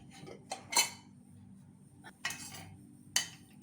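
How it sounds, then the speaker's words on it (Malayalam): A pressure cooker lid is opened after its steam has been released, giving a few sharp, quiet metallic clinks and clanks spaced apart against a near-silent kitchen background. "കുക്കറിൻ്റെ എയറൊക്കെ പോയിട്ടുണ്ട് കേട്ടോ അപ്പോൾ നമുക്കിത് ഓപ്പൺ ചെയ്ത് നോക്കി"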